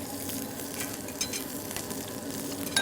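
Okra and onions are tossed and sautéed in a pan in a hotel kitchen, giving a continuous close sizzle broken by scraping stirs and a couple of sharper clacks, with no talking.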